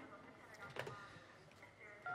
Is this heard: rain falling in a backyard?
no